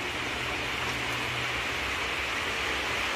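Steady, even hiss of rain falling near an outdoor cooking fire, constant and moderately quiet with no breaks.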